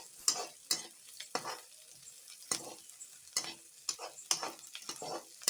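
Green chillies being lightly sautéed for Thakkali Kadaiyal: a spatula scrapes and stirs in a rhythmic series of close strokes over a soft sizzle, no one speaking.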